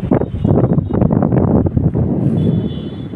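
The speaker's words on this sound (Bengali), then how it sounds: "সুন্দর মৃদুমন্দ বাতাস প্রবাহিত হচ্ছে" Breeze at the Manda bridge over a river in Naogaon, heard mostly as loud, gusty wind buffeting the microphone throughout.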